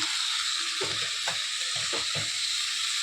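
Homemade masala paste frying in a pan for an egg kadai masala, a steady broadband sizzle with a few soft stirring scrapes and clicks, no voices.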